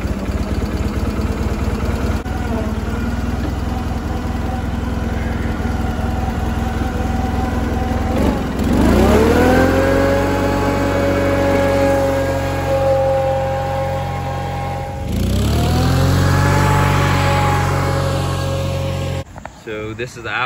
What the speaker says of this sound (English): just a quick little startup of each tractor